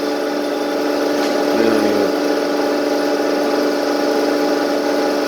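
A CNC lathe hums steadily while machining knurled bushings from tough brass, a loud continuous motor tone with a brief cutting scrape partway through.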